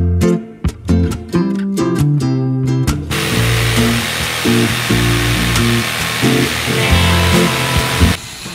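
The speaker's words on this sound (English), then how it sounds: "Drill through and secure with a carriage bolt." A power drill bores through square timber for a carriage bolt while building a wooden swing. A few short bursts start it, then it settles into a loud, continuous whine with its pitch wavering as it cuts, ending abruptly.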